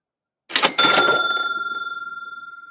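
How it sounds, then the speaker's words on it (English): A cash register cha-ching: a quick mechanical clatter and then a bright bell ring that rings on and slowly fades, with no voices. "Students love that cha-ching sound"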